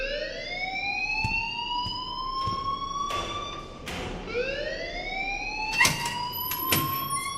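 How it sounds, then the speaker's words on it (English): A fire alarm rings in the video game Life Is Strange, repeated rising electronic sweeps cycling loudly and continuously, punctuated by a few sharp thumps. "please turn off that alarm"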